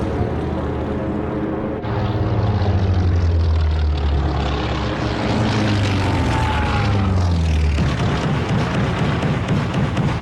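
WWII torpedo bomber propeller engines droning loudly and steadily, the deep rumble thickening as more aircraft pass close by, with no voices.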